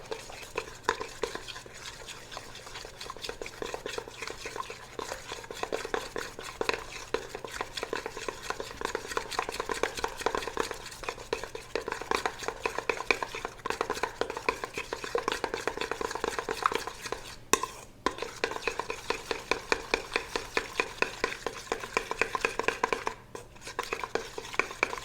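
Sourdough brioche dough of flour and eggs being mixed together in a bowl, heard as a continuous, close, rhythmic wet slapping and scraping that runs for about 25 seconds, with no talking.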